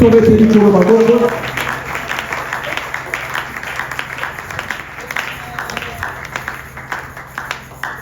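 A church congregation claps and cheers in praise after a brief stretch of a preacher's voice. Dense, steady applause with sharp individual claps fills the rest of the clip and slowly thins.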